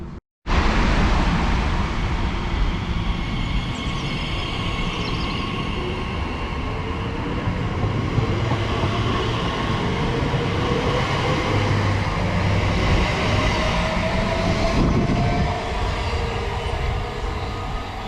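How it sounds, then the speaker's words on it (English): An electric passenger train, 345042 bound for London Paddington from Reading, rumbles steadily past at close range for a long stretch, a continuous loud roar of wheels and motors without any voices. "there goes 345042 heading to London Paddington from Reading."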